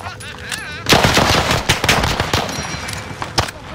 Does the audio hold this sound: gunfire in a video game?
yes